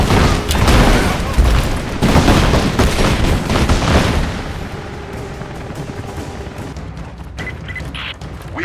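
Gunfire in the video game Rise of the Tomb Raider: dense, loud bursts of shots and booms crowd the first four seconds, then thin out to scattered distant reports under a lower rumble, with voices mixed in.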